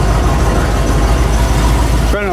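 Engine of a 1982 Ford F150 idling cold after distributor work, a loud, steady low rumble close to the truck that runs evenly throughout and cuts off abruptly near the end.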